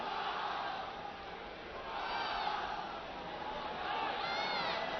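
Stadium crowd at the 1965 Coupe de France final replay between Stade Rennais and CS Sedan, a broad sustained roar and applause, steady and distant-sounding with swells of whistles or cheers.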